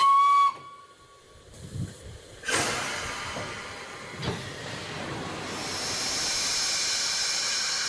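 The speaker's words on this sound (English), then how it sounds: "Steam fills Tornado's cylinders." The Tornado steam locomotive lets off loud bursts of steam as it departs through a station, with a sharp whistle tone at first, then abrupt hissing blasts building into a sustained roar.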